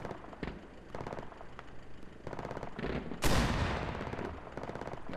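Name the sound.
gunfire in a video game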